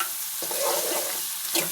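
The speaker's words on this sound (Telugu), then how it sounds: "వేసుకొని పచ్చి వాసన పోయేంత వరకు ఫ్రై చేసుకోవాలి" Onions frying with ginger-garlic paste in a pan give a steady, close sizzle, broken by stirring scrapes about midway and again near the end.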